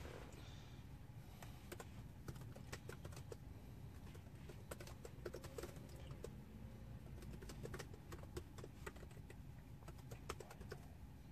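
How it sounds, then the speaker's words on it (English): Typing on a laptop keyboard resting on a steering wheel tray inside a Tesla Model 3, a steady run of quiet key taps over a low cabin rumble, with faint cooing birds in the background. "let's see if I can type very comfortably or not"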